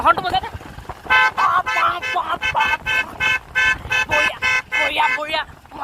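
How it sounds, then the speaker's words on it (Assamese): A motorbike horn honks close and loud in a rapid, rhythmic string of short toots, with voices at the start and end. "হৰ্ণটো একদম থাৰৰ নিচিনা বাজে হৰ্ণটো বজাই দে"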